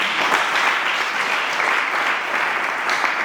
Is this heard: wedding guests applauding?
yes